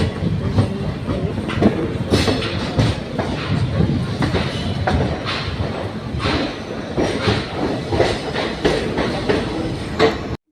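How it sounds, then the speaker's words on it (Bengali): Train running on rails in India, heard from inside a carriage as a steady rumble with repeated clickety-clack wheel beats and occasional metallic rattles, continuous and fairly loud throughout. "ট্রেন ঢিক ঢিক করে যাচ্ছে"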